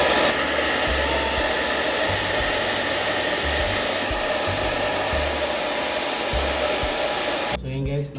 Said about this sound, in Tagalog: bublowirin na natin siya para kapit na kapit talaga yung adhesive natin.